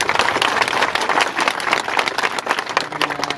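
A crowd at a rally claps loudly and steadily, dense rapid applause sustained throughout with no talk over it.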